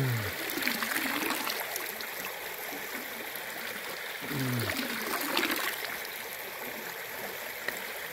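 Shallow creek on a rural property trickling and gurgling steadily, close and soft, with a few faint splashes and light background noise.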